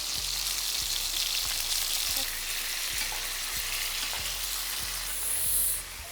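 Steak sizzles steadily in a hot pan with butter, a dense crackling hiss running throughout, punctuated by a regular series of soft ticks, with no talking.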